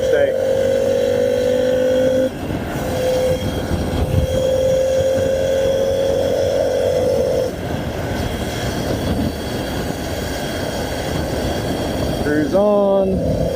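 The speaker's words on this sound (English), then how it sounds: "we'll see what the wind noise sounds like" Wind roars and buffets past a closed-visor helmet on a motorcycle cruising the interstate at about 75 mph, a loud, constant rushing noise with engine tones rising and falling beneath it and a rider's voice talking over parts of it.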